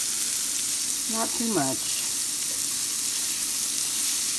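Red potatoes sautéing in oil with spices in a pan, a steady, close, even sizzle that carries throughout while a person speaks briefly over it.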